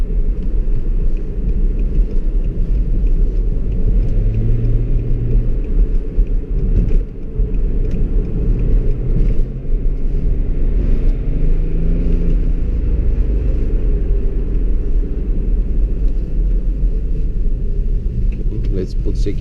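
A tuned 2005 BMW 535d diesel pulls hard, its deep engine rumble droning steadily and loud throughout, with voices talking over the engine noise.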